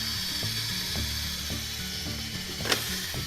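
Toy Hello Kitty toaster with a waffle inside, ticking ratchet-like clicks repeating in a steady rhythm with one sharp click near the end, close and quiet, no voices.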